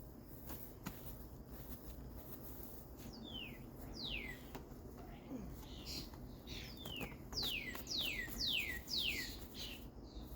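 Several clear, downward-sweeping whistled notes of cardinals repeat in a series, with occasional chirps from other birds over quiet outdoor background; faint and somewhat distant.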